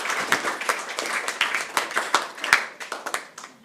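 Scattered, uneven clapping from a small audience at a school AI and robotics lab inauguration, a mix of individual hand claps rather than a full roar, lasting a few seconds before tapering off.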